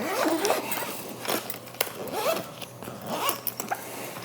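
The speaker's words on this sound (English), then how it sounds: "Let's go ahead and zip this up now." A barber's travel bag being zipped shut, several short rasping zipper pulls in quick bursts with brief pauses, close and fairly loud, accompanied by light handling knocks.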